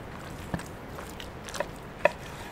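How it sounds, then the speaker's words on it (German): A knife makes a center cut through a juicy 3 kg herb-crusted spit roast grilled on a rotisserie. A few quiet, sparse wet crackles and squelchy snaps sound close up, with no talking. "Wir machen mal einen ordentlichen Mittelschnitt und horchen gleich mal, ob es schmatzt."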